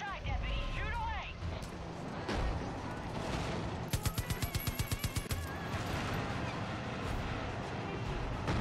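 Rapid, regular volley of cannon shots fired from the Widowmaker, a boat in a video game, about a dozen evenly spaced booms in a burst amid ongoing engine rumble, water noise and background game sound, with talk around it.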